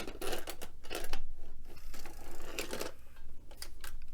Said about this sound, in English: Here's loading a tape in our Super Beta machine.